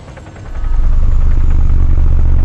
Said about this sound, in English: Oh, no. There's a helo.